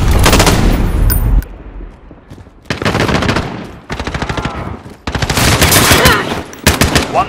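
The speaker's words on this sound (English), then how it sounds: "Got a sentry gun on." A sentry gun in Call of Duty: Modern Warfare fires long, loud automatic bursts of rapid shots, broken by short pauses between volleys.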